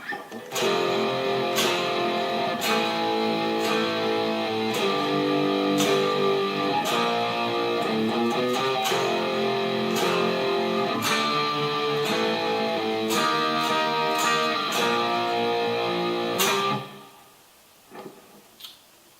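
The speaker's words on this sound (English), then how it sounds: "there's a good chromatic run, and it cuts abruptly at the end" Electric guitar riff running through a steady chromatic line with drums, ending abruptly, followed by a few faint clicks in near silence.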